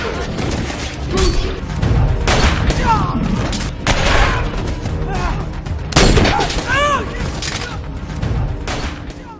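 Gunfire in a film action scene, with shots aimed at the knees, arrives as several loud bursts and booms scattered among dense action noise and busy mixed sound.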